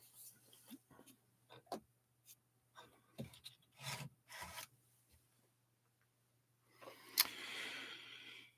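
Sandpaper rubbed in short, separate strokes over a textured surface, quiet and close, with a longer and louder raspy pass near the end.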